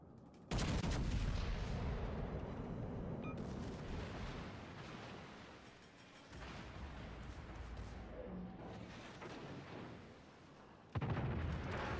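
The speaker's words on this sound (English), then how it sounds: "one of them just fired. The other just fired." Heavy naval guns boom in the World of Warships Legends video game, a loud blast opening the clip and another near the end, with a rumbling, roaring battle din sustained between them and no talk.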